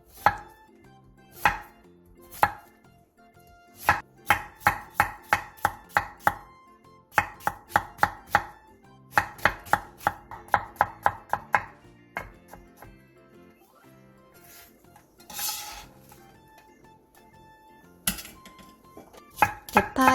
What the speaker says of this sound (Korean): 호박 1개를 얇게 채 썰어주세요.